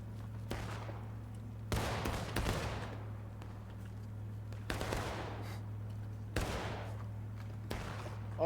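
Infantry musket volleys in the Civil War video game War of Brothers, several sharp cracks and booming shots at irregular intervals, some near and some farther off, each trailing into a rolling echo over a low steady hum.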